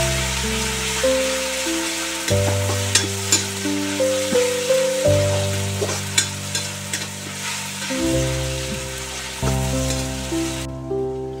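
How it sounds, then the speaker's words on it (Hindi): Onion and a spoonful of ginger-garlic paste fry in hot oil while a spoon stirs in steady scrapes, giving a continuous close sizzle under soft background music. "उसमें डालेंगे 1 चम्मच अदरक लहसुन का पेस्ट भर के और इसे 2 मिनट के लिए भून लेंगे"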